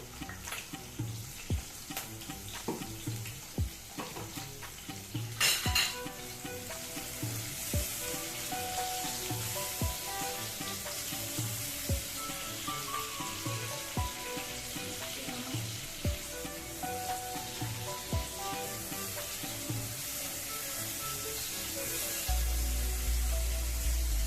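Green chilies and chopped onion fry in a pan with a steady crackling sizzle, punctuated by sharp clicks and scrapes of stirring, one louder clatter early, and the frying continuing evenly throughout.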